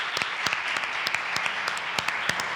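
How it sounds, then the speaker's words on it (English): Audience applause for an author at a book talk, a small group clapping with sparse, distinct individual claps standing out over a soft wash of hands, no speech. "So I think that deserves a round of applause."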